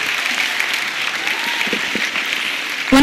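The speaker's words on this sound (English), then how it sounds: "let's clap for that." Keynote audience at a conference in Indore, India, applauding steadily throughout, a dense, even wash of clapping that swells slightly louder at the very end.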